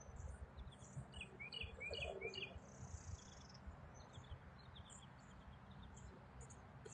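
Faint, high bird chirps come in short clusters over a low background rumble, quiet and somewhat distant.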